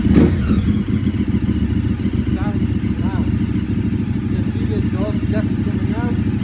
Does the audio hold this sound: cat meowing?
no